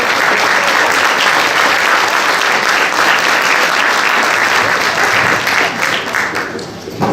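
Sustained, loud applause from a large audience at a cyber operations event, a dense steady wash of clapping lasting several seconds before tapering slightly at the end.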